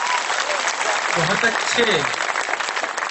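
A seated crowd at a Hindi poetry recital applauds in a steady, dense roar of clapping, with a voice briefly speaking over it.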